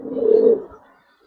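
A single low, soft coo from a female pigeon, close and brief, swelling for about half a second before fading out with nothing else heard.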